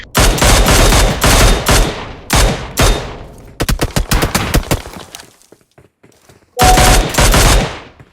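Loud bursts of rapid automatic M4 rifle gunfire in a video game come in several volleys, separated by single sharp shots and short pauses, close and punchy.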